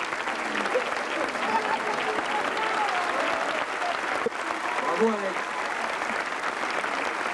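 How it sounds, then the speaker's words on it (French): A circus gala audience in Sully-sur-Loire claps in sustained, dense applause that dips briefly midway, while a voice calls out over the clapping. "On applaudit Denis, qui n'a pas eu peur."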